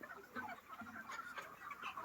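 Chickens in a poultry shed during hot summer weather, a crowd of birds clucking and calling continuously and fairly close, with overlapping chirpy calls and no speech.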